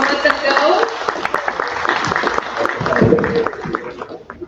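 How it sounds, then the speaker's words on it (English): Audience applause at a Bigfoot paranormal convention panel, a dense wash of clapping with voices mixed in, steady and fairly loud for several seconds before thinning out. "give them all one more round of applause"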